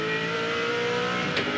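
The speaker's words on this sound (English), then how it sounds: "It shows you very easy to burst these 600 horsepower engines into piles of wheel spin" A 600 horsepower race car engine at Calder Park Raceway during a 2001 Shell Championship race, revving hard and steady at close range with a dense, continuous roar that holds for the whole moment.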